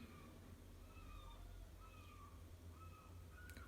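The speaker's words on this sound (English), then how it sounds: "Apologies if you can hear seagulls in the background." Seagulls call repeatedly from a distance by the coast, faint rising and falling cries over a steady low background rumble.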